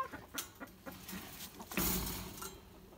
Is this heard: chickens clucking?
yes